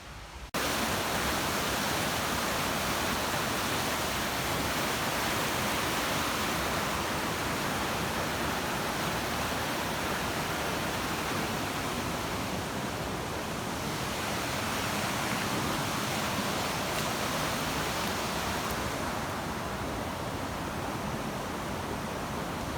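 Creek water flowing near a rural property, a loud, constant broadband rush that stays even and unbroken for over twenty seconds, close by, with no voices heard.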